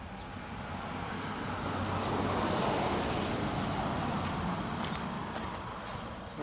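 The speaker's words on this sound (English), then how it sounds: "I have to wait till the water stops flowing into the bucket" Water flows steadily from a toilet drain pipe into a bucket, a continuous close hiss and splash at even loudness, with no talking over it.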